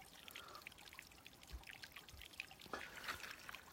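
Water trickling and dribbling steadily at a trail water source on the Appalachian Trail, faint and continuous with small splashy variations and no voices.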